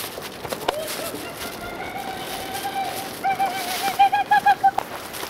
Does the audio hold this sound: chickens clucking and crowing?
no